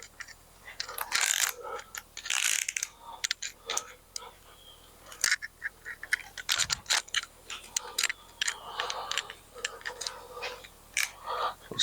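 A wrench ratchets and clicks while bolts on a Chevy 5.3 engine's lower end are torqued down in a star pattern, with short repeated mechanical clicks and scrapes in bursts close by, mixed with shop handling noise.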